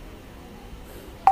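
A single short telephone keypad dial tone beeps at the very end, clear and close, after a second of faint low background hum.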